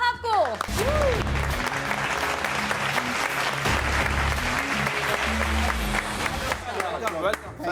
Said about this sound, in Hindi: आइए आपकी तालियों में वेलकम करते हैं